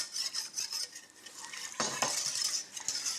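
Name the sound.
scraping starch and sugar mixture from sides of saucepan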